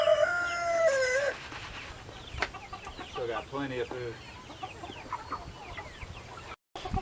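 Meat chickens cluck in a farm coop while a rooster crows nearby; the loud crow comes first, then scattered clucks continue under a man's speech.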